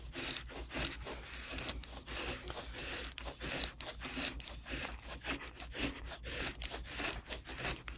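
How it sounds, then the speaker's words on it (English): A SOG Fielder liner-lock folding knife with a hollow-ground CRYO blade whittling wood, rapid repeated scraping strokes in a steady rhythm, close and fairly loud, with no talking. "that's why I wanted to show it cutting wood"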